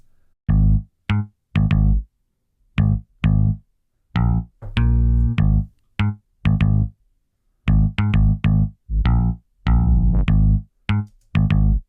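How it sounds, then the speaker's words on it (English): Two hand-played synth bass parts layered into one thick, cheesy bass line, running as short separate notes and phrases in a loose, unquantized rhythm, loud and up front with no other instruments or voices. "So when you hear them together, now you get something a little bit beefier, but it still has that cheesy bass sound to it."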